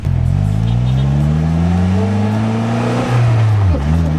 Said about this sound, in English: So today we are in a Polaris Slingshot.